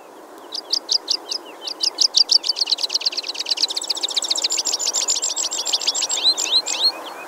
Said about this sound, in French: Le chant que vous venez d'entendre est celui du pipi